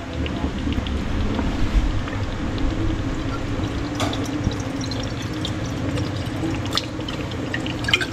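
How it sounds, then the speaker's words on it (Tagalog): Water pours into a pan of homemade spaghetti sauce made with ketchup, a steady splashing and trickling close by with small drips, no talking. "Tapos lagyan natin tubig."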